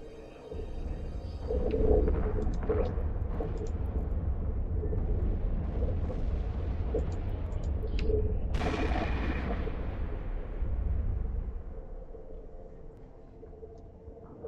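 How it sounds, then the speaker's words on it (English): Explosions boom in space combat in Eve Online during a solo mission flown in a Caldari Golem marauder, a continuous heavy rumble with a sharp louder blast partway through that slowly fades out. "that one explosion that was blue, that was the sweetest one so far."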